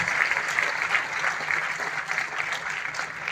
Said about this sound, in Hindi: मैं चाहता हूं कि हमारे पुराने जो डिस्ट्रीब्यूटर्स है इनके लिए एक बार जोरदार तालियां बजाएंगे